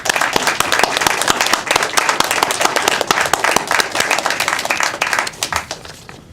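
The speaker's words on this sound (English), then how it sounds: "she deserves a round of applause" Crisp clapping from a smallish audience at a town board of education meeting, sharp individual claps forming brisk applause that thins out and fades near the end.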